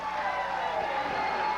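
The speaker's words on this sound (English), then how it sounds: "And the crowd loves it." Crowd at a 1987 pro wrestling match cheering in a steady, loud roar with no break, heard only briefly.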